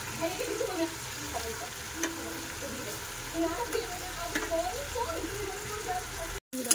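Potatoes go into a pan of fried eggs and spices, giving a steady close sizzle with scraping and stirring that runs unbroken for several seconds before a brief cut near the end.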